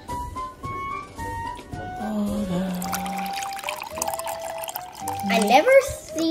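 Hot water poured onto Jagarico, the Japanese potato snack, in a cup, a steady liquid trickle and splash under continuous talk and background music.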